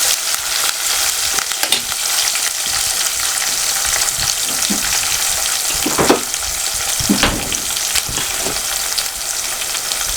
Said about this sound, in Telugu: తర్వాత ఇందులో కొంచెం అల్లం వెల్లుల్లి పేస్ట్ వేసేసుకుంటా